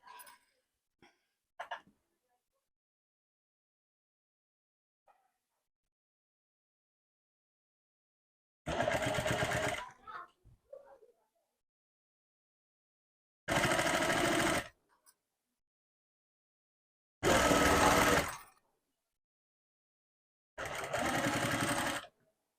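A sewing machine stitches folded thread piping in four separate bursts of steady whirring, each a second or two long, with quiet pauses between them. A few faint handling noises come early, and no one talks.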